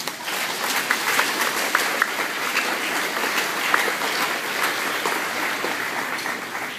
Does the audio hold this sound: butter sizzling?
no